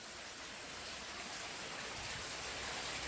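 Heavy monsoon rain pours beside a river, an even, unbroken hiss that holds steady throughout with no voices.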